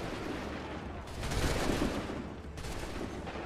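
Musket volley fire in the video game Assassin's Creed during a Lexington and Concord battle, a dense rolling crackle of rifle shots with a swell in the middle and another burst near the end, no speech.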